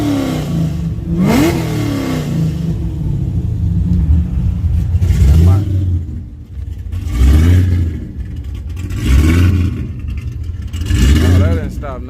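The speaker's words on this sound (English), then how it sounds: "Let me rev it up and see if." A drag-racing car engine revs up repeatedly in loud, close bursts that rise and fall roughly every two seconds, with people talking underneath.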